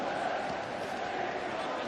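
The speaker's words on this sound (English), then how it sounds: "it's really got the Rovers fans chanting, cheering" Hull KR Rovers fans in a rugby league stadium crowd chanting and cheering, a steady broad roar of many voices without break.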